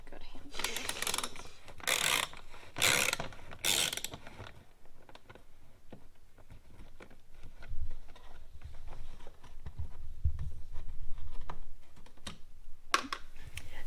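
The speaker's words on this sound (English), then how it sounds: "I'm going to go ahead and use a ratchet to loosen these." Ratchet clicking as it loosens T45 Torx screws on a 2019 VW Jetta Mk VII during an oil change, a quick run of close, sharp ratcheting bursts early on, then quieter handling sounds.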